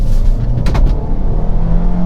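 A 2020 Hyundai Kona's engine rises in a short, loud rev as it accelerates hard to overtake, with a steady low road rumble underneath.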